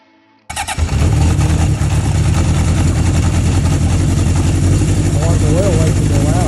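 A 1978 Honda CB750F motorcycle engine, just after an oil change, cranks over and catches after a short silence, then runs loud and steady close by.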